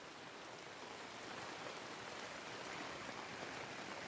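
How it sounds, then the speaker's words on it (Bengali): Heavy rain pours steadily outside around a shelter in a mango orchard, a dense, constant broadband wash with no pauses, alone without talk. "বাইরে অনেক জোরে জোরে বৃষ্টি হচ্ছে"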